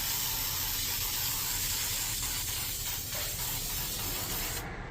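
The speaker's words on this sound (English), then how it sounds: "I'm going to get this and shake it and just spray it." Aerosol spray can hissing steadily onto a Chevy door panel during a 1999–2006 vinyl wrap job, one long continuous close spray that cuts off right at the end.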